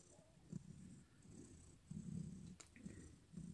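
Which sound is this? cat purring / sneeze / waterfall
cat purring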